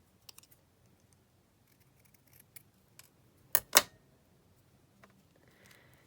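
Scissors trimming paper for a glue book folio: a few faint light snips and ticks, then two sharp close cuts in quick succession, with quiet pauses between.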